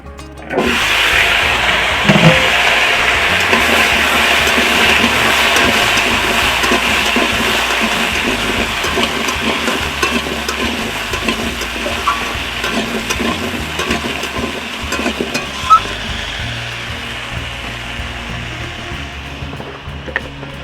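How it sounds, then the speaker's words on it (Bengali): Pieces of khamalu yam and papaya sizzle loudly in a wok, a dense continuous frying hiss with scattered scraping stirs, slowly easing toward the end, and no voices. "এখন আমি খামালু আর পেঁপেটা এখন কড়াতে আমি উঠিয়ে দিচ্ছি"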